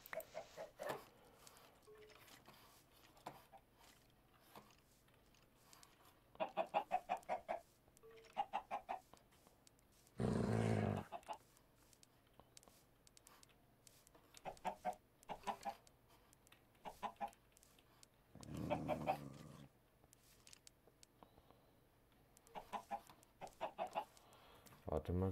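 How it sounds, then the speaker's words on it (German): Chickens in the video game Minecraft cluck softly at scattered intervals, with short gameplay bursts in between, all fairly quiet. "Hier sind Hühner."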